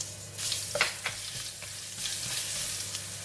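Garlic paste, added after curry leaves to hot oil for a vegetarian vegetable curry, sizzles and fries steadily in a pan while a utensil stirs and scrapes with a few soft clinks, close and fairly quiet.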